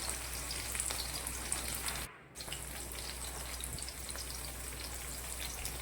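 Cumin, onions and chillies fry in hot oil, giving a steady, quiet crackling sizzle that carries on throughout, with a brief dip partway through and no voice.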